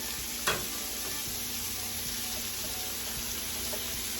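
Philly steak sandwich meat frying and sizzling steadily in a pan, a continuous broad hiss with a brief stir or scrape near the start, no talking.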